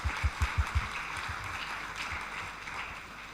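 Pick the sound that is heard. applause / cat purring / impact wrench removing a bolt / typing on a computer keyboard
applause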